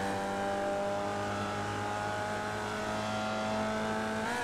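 Formula Vee race car engine accelerating in the iRacing simulator at Okayama Circuit, a continuous buzzing engine note rising steadily in pitch, up close with no talk.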